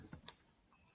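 A few quick clicks of typing on a computer keyboard, close and fairly quiet, spaced irregularly with a sharper keystroke at the end.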